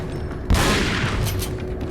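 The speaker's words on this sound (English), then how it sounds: "Say hello to my shotgun friend." A shotgun goes off in Resident Evil 4 Separate Ways with a sudden, loud blast. Crackling, rumbling echoes follow and hang on for over a second, alone without any talk.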